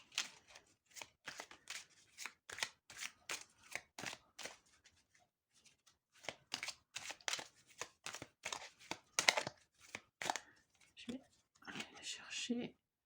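Tarot cards being shuffled and laid out, quick papery riffles and soft slaps in close, irregular bursts with short pauses between, fairly quiet and close up.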